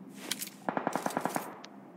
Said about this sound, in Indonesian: Aku tembak dah puas.